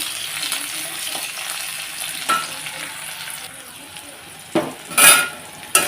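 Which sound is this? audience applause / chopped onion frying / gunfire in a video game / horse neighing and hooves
chopped onion frying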